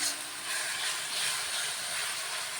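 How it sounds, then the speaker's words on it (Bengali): A paste of ginger, garlic and onion fries (bhuna) in a pan for chicken curry, giving a continuous soft, even sizzling hiss at close range with no talking. "মশলাটাকে কষিয়ে নেওয়া হচ্ছে"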